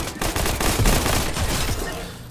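Rapid bursts of shotgun fire from the Fortnite video game crack out in quick succession, loud and dense throughout with brief pauses between volleys.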